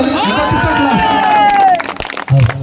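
A crowd at a Shiv temple consecration celebration claps and cheers loudly while a voice with falling tones rings over the noise; the applause continues dense and close throughout.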